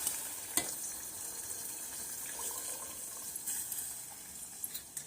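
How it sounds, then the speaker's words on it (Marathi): Hot water poured into a pan of fried masala while making Kolhapur-style misal amti, giving a soft steady splashing hiss with a brief sharper splash near the start, close and fairly quiet, no talking. "त्या मसाल्याच्या भांड्यात मी गरम पाणी घातले।"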